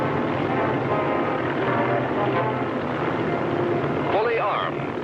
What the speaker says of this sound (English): Fully armed, the 21st Bomber Command was taking off for Japan.